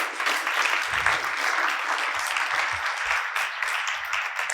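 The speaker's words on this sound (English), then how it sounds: "round of applause" A conference audience at an aeternity crypto event gives a steady round of applause, dense and sustained throughout, with faint voices underneath.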